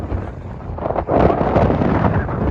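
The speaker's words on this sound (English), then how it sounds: "as you can hear, it's windy" Strong wind on the north coast of Scotland at Thurso, with waves nearby, roaring and buffeting the microphone, a loud continuous rumble with a gust swelling midway.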